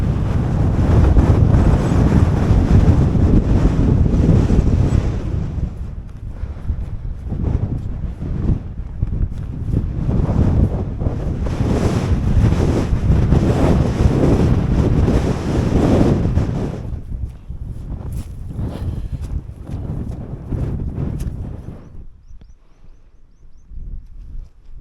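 Strong wind on a hike in the Yorkshire Dales, buffeting the microphone in loud, continuous roaring gusts that ease off toward the end.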